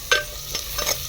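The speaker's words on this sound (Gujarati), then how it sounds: "નાખી આદુ લસણની પેસ્ટ અને લીલું લસણ એટલે એને પણ આમાં સાંતળી લઈએ." Ginger-garlic paste and green garlic sautéing in a pot over a desi chulha, with a low steady sizzle and three or four quick scraping stirs close by.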